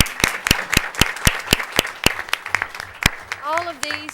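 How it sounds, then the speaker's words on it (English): A small audience claps at a city commission meeting, with sharp, evenly spaced hand claps close by. A voice begins speaking near the end. "And let's give them an applause."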